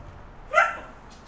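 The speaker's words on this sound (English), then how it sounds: "I don't need barking right now." A dog gives a single sharp bark indoors, fairly close, with quiet room tone before and after and no speech.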